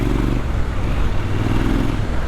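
A 2022 Triumph Scrambler 1200 XE engine burbles steadily in third gear around 2000 RPM, a loud, close, smooth low drone with no other sounds over it.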